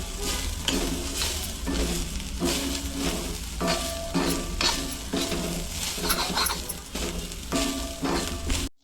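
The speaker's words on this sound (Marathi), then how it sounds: "तर भाजून घ्यायचं खोबरं थोडं लाल व्हायचं" Grated coconut and onion are dry-roasted in a pan over the gas flame, with a steady close sizzle and repeated scraping stirs of a spatula against the pan and no talking.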